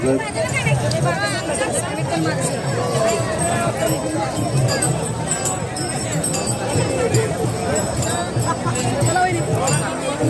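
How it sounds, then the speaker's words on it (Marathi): The ceremonial horse of Mauli's palkhi procession, the Shitole Sarkar's honoured horse, moves amid a dense festival crowd, with hooves and jingling lost in constant loud chatter and babble while someone talks over it. "हा माऊलींचा अश्व आहे. शितोळे सरकारांचा हा मानाचा अश्व आहे."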